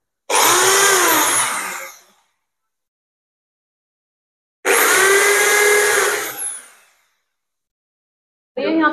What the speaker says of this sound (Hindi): और उस तरफ ड्रिल से छेद करना है बोल्टों के लिए